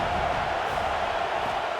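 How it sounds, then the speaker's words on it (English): Football stadium crowd noise during a 3rd down defensive stand in an AAF game, Hartford Colonials at Louisville Fire: a steady, dense roar from many fans that swells and holds throughout. "Decibels rising as the crowd gets behind this defense on 3rd down."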